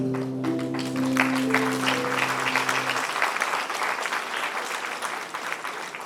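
Applause for a student theatre club's performance at a college event, dense and steady clapping from a hall audience running throughout, with a brief sustained musical tone fading out under it early on.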